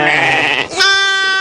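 Sheep from a flock kept in stone enclosures in the Aït Atta mountains bleat loudly up close, two long overlapping wavering cries in quick succession.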